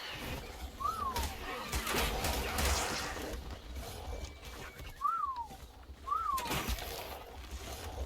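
A bird creature in Ark Survival Evolved gives three short rising-then-falling calls, spaced apart over a low game rumble, fairly clear against the background.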